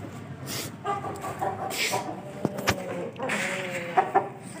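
Chickens cluck and fowl call intermittently during feeding time on a home poultry setup, a few short bursts over a low background with brief faint voices.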